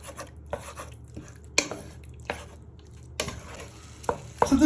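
Chicken pieces are broken apart and stirred with a utensil in a hot pan, giving irregular scraping knocks and clacks over a soft, steady sizzle, close and without talk.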